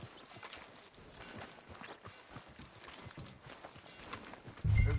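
Horse hooves clip-clop at a steady walking pace in Red Dead Redemption 2, a soft, even rhythm over quiet background ambience, with a louder thump at the very end.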